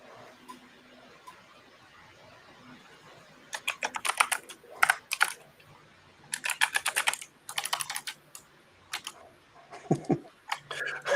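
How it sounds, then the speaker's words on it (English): Rapid bursts of clattering keystrokes on a computer keyboard, close and distinct, arriving in irregular flurries separated by short pauses, with no one speaking. "Nobody's talking. We're all typing."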